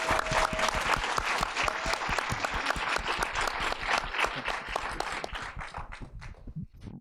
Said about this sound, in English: Let's see how much applause this gets.